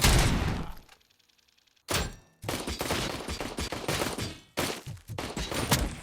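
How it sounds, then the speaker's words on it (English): Gunfire from a 9mm pistol in the Robocop Rogue City video game, a loud burst of rapid shots, then a pause and more repeated shots through a dense, continuous game mix. "9mm pistol"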